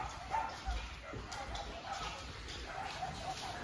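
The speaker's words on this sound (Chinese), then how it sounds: "这个区域的狗狗午觉已经睡醒了，大部分都在玩呢" Rescued stray dogs at a shelter in Wuhan, China, playing after a nap, with scattered yips and barks at a moderate distance over a busy background, some whimpering mixed in.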